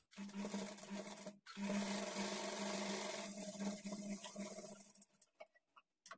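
A sewing machine stitches darts with a half-inch margin on a blouse lining. It runs in a steady, fairly quiet whir for several seconds after a brief pause, then stops with a few light clicks.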